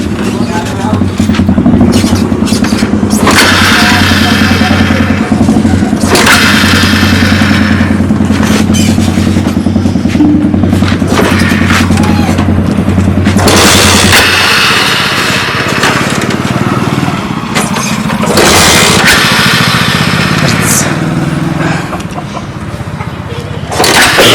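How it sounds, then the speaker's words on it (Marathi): A motorcycle ridden with a rear passenger on village roads: a loud, close engine drone with wind rush holds steady, then shifts and eases about halfway through before surging again. "बाईक राईड पण हीच करणार आहे मी फक्त मागे बसणार आहे"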